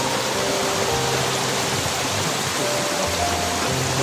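Ruma Gadu waterfall gives a steady, broadband rush of falling water, continuous and fairly close, with no voices.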